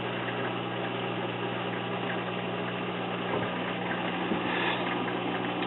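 A Whirlpool washing machine runs mid-cycle with a steady low hum and rumble, a constant mechanical drone with faint shifting noise on top and no voices.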